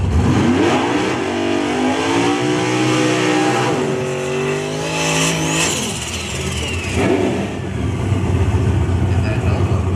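Drag racing cars, a Nova and a naturally aspirated Mustang, roar hard down the strip, engines revving and accelerating loudly and continuously, with a rising whine near the middle and an announcer talking over the noise throughout.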